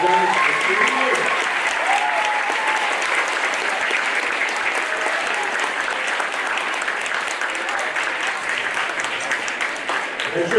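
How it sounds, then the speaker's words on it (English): Audience at a school spring concert applauding the fifth grade orchestra, a dense sustained clapping from a large crowd lasting the whole stretch, steady and fairly loud with scattered faint voices. "So I'd like a round of applause for the fifth grade orchestra members who've done this for 3 years."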